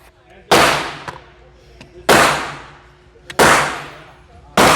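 Four sharp, loud gunshots from a short-barrel AR pistol firing .223, each a sudden crack with a decaying tail, spaced about a second and a half apart, close by with no talk.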